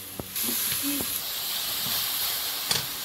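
Pumpkin and potato pieces drop into a spice paste of salt, cumin and green chili frying in a pan, setting off a sustained hiss and sizzle after a few soft clunks.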